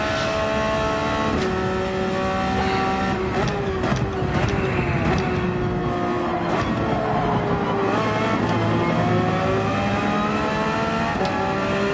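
A race car engine in Gran Turismo 7 at the Red Bull Ring screams loudly and steadily, climbing through the revs with repeated gear shifts and brief dips, close and alone with no voices.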